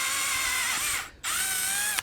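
A small drill bit bores a hole during a turbo install on a GMC Sierra, whining loudly and steadily, stopping briefly partway, then spinning up again, with no talking.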